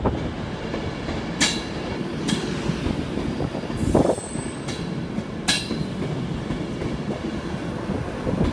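A passenger train bound for London Euston passes Kingsnowe level crossing near Edinburgh, its steady wheel rumble broken by several sharp metallic clicks and squeals from the rails, with no one speaking.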